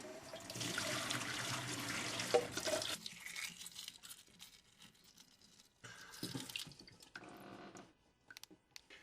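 Cold tap water runs hard into a pot of boiled eggs in a kitchen sink, a loud steady gush for about three seconds, then quieter intermittent splashing and trickling as the flow is adjusted.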